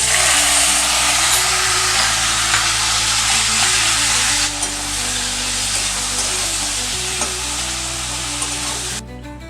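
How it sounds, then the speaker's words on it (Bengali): Onion paste frying with potatoes in a pan, a steady close sizzle with occasional stirring scrapes throughout, a low background hum underneath. "পেঁয়াজটা খুব ভালো করে আলুর সাথে ভেজে নিয়েছি।"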